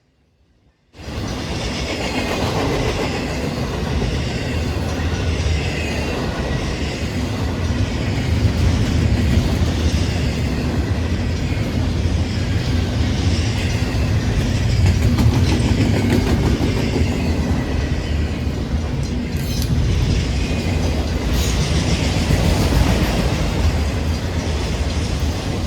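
A KCS freight train, number 181, rolls past close by, a loud continuous rumble with wheel clatter and rail noise that holds steady for the whole stretch after an abrupt start, with faint squeals near the end.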